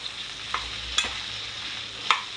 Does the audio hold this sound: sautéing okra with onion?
yes